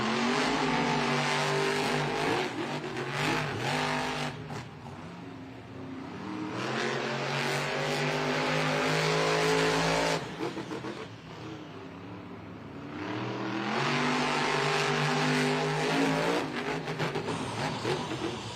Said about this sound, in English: When they see outside yellow lights, that means they need to fire their engines, head to the starting line.